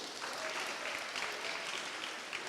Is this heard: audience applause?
yes